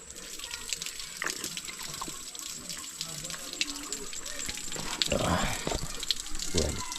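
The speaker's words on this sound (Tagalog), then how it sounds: "Ito nang gagaling yung tubig. Nilagyan nila ng kawayan." Spring water runs from a bamboo pipe outdoors in a steady trickling flow with splashes that grow a little louder toward the end, while voices are heard in the background.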